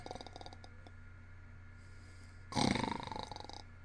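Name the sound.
reader imitating a character snoring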